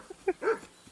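A dog in Kingdom Come Deliverance 2 gives a couple of quick, faint barks, a short yip followed by a slightly longer bark, heard alone at a distance.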